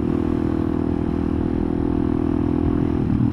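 A Benelli Python 200 motorcycle rides along steadily, its engine droning close and loud with a constant hum and a clattering, whirring edge, with no talk.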